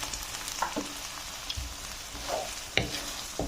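Spinach and cheese filling for tacos sizzles softly in a pan, a close, low frying hiss broken by a few stirring scrapes and clinks, with no talk.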